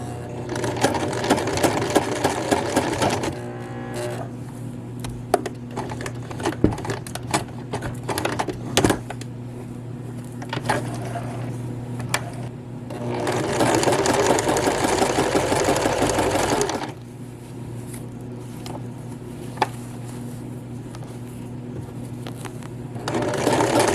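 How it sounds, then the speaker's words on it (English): A sewing machine stitching a replacement elastic waistband into a skirt, running in long rapid bursts of needle clatter with brief slowdowns and pauses between stretches of stitching. "I'm going to take my time and I'm going to start stitching."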